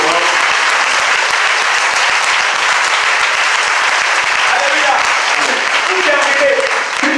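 A church congregation applauds loudly and continuously, a dense wash of close clapping that holds steady for the whole stretch, with no distinct voices rising above it.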